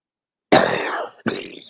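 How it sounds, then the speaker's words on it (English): A single person coughs twice, a harsh, close cough followed by a shorter second one after a brief pause, with no talking. "I told you this cough is disgusting."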